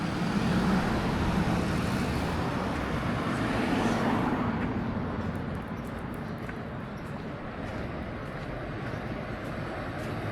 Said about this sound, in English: you certainly get some big lorries through here